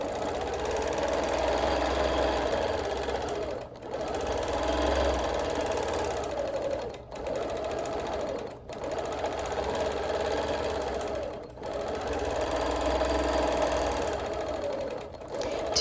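Sewing machine stitching free-motion quilted feathers with fine Superior So Fine poly thread, a loud close rapid mechanical chatter running in bursts of a few seconds separated by brief pauses, with no talking.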